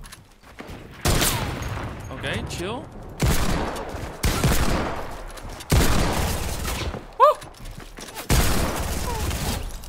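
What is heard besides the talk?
gunfire in a video game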